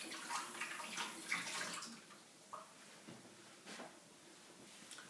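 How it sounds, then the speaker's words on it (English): A hand is rinsed under running water during fish pie preparation, a quiet splashing trickle with faint clinks, soft and intermittent rather than a steady stream. "Let me just give my hand a little rinse."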